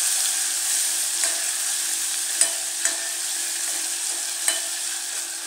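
Ground spice paste of coriander and spices frying in oil over low heat, a soft continuous sizzle close by with a few sharp spatter pops, no voices.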